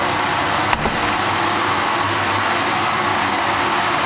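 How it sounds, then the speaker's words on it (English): An air compressor drones steadily in a spooky old building, a loud continuous rumble with a brief knock near the start. It fills the space with no speech. "Air compressor."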